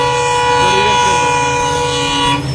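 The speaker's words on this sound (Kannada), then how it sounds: "ಇದೇಗ ಒಂದು ಟ್ರೈನ್ ಹೋಯ್ತು" A train passes a railway gate crossing at Ibrahimpur, a loud, continuous rumble with sustained horn tones close by, easing off right at the end.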